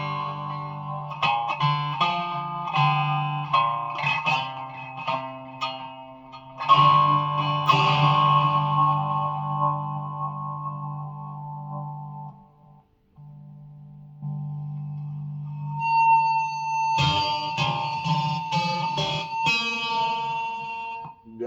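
Cigar box guitar with a piezo pickup at full volume, plucked notes and chords ringing with a thin, buzzy, microphonic tone, a long sustained stretch, a pause, then a fresh burst of strummed strings.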